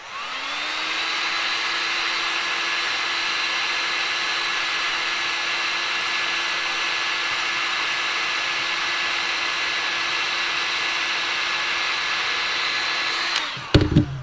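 A heat gun warms plastic tubing to bend it for a DIY garden sprayer transfer pump. Its loud, steady blowing roar holds for about thirteen seconds and then snaps off with a couple of clicks, with no one speaking.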